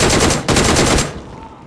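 Automatic gunfire in the mobile battle royale game PUBG Mobile sounds as a loud rapid burst of shots, cut off after about a second by a brief break and then falling into a fading tail.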